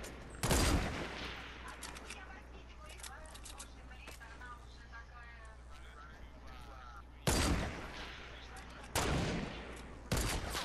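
Gunfire aimed at a rocket in the video game Fortnite comes in sharp, loud bursts of rapid shots at the start and again near the end, with quieter game sounds and background noise in between.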